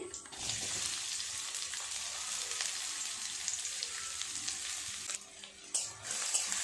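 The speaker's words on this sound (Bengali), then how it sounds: "পেঁয়াজটা ভালোভাবে নাড়াচাড়া করে ভাজা করে নেব।" Chopped onions sizzle in hot oil in a wok while being stirred, a loud, continuous crackling hiss with occasional scraping, briefly dipping before the sizzle returns.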